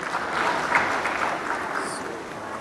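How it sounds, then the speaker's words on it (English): Applause from an audience at a tech conference day session, fairly steady and moderately loud from start to finish, as a presenter is welcomed to the stage. "A big round of applause,"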